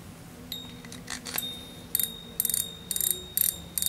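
Daiwa BG Airbail spinning reel with its clicker ratcheting in short metallic bursts, a few quick clicks first and then several rapid ticking runs, close and clear, with no voices.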